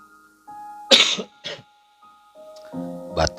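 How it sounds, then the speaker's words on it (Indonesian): A single close cough followed by a smaller second cough, with a faint tonal hum and a brief rough throaty sound afterward. "Batuk"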